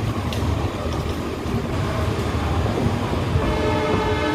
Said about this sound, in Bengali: ধৌলি এক্সপ্রেস ফাইনালি ঢুকলো সাঁতরাগাছিতে।